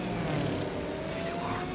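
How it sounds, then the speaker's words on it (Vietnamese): Soviet military aircraft passing overhead during an air raid in a war drama, a steady broadband engine roar that stays loud and constant throughout. "C-6 hai máy bay của Liên Xô."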